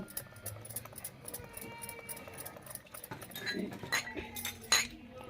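Boondi batter with baking soda stirred in a bowl, with light clinking and tapping of a spoon against the bowl, irregular and fairly close, getting busier toward the end.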